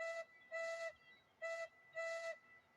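A steam locomotive whistle in a train video game gives four clean tonal blasts, two short and two longer, in an uneven rhythm. The sound is bright and clear against a quiet background, with no talking.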